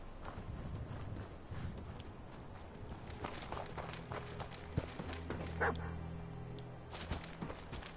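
Dogs barking and scuffling in a fight in Fallout 4, with scattered barks, growls and paw scrapes amid faint background game noise, fairly quiet overall.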